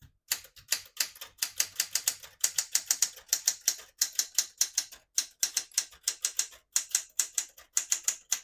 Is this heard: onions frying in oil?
no